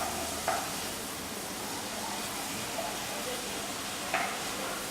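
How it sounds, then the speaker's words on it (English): Vegetables for a cottage pie sautéing in a pan give off a soft, steady sizzle and hiss, fairly quiet, with a few faint clinks of stirring. "we're going to saute them to seal in the nutrients and start and soften them"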